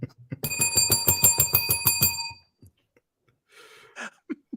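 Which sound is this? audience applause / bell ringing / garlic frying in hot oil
bell ringing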